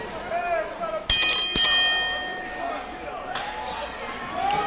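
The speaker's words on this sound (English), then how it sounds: "All right, bell sounds." A wrestling ring bell at a live independent show in Miami rings out twice in quick succession, bright sharp clangs with lingering ringing tones, while a commentator talks over the arena noise.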